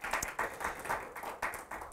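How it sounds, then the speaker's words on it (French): A conference audience gives a short round of clapping, with distinct claps falling in a loose, almost rhythmic pattern at moderate distance for under two seconds. "on peut les applaudir, effectivement"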